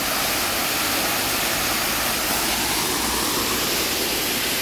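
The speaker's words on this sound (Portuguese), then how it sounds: "linda a cachoeira" A waterfall near Soledade de Minas in southern Minas Gerais, a loud, constant roar of falling water that fills the whole clip, unbroken and with no talking.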